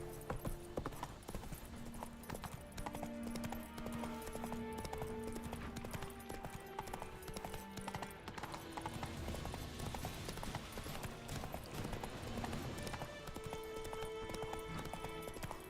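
Horse hooves clip-clop steadily at a riding pace in the open world of the video game Witcher 3, a continuous rhythmic trot with a faint whinny and game music beneath, without talk.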